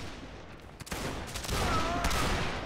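Musket volley fire in a Napoleonic Wars battle game, a ragged burst of shots that builds into a dense, sustained crackle of many muskets, fairly loud and close.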